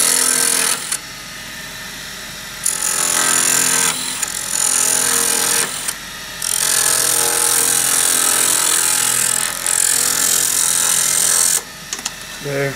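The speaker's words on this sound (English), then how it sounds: "I'm going to come in here and see if I can't just part off this extra fat part here" Wood lathe parting off excess antler from a pen blank, a steady loud whirring hum with a harsh scraping cut that drops out briefly several times as the tool lifts, close up with no speech.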